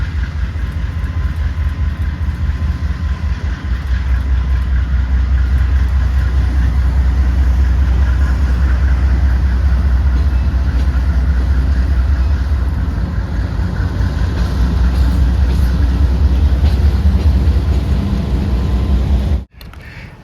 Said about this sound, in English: Today's train is led by a dying breed, a YN2